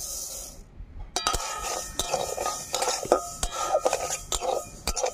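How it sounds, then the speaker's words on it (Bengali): Mung dal dry-roasting in a pan, stirred with a utensil that gives sharp metallic scrapes and clinks at irregular intervals over a soft rustling of grains, close and fairly loud. "মুগ ডালটা ভেজে নেব।"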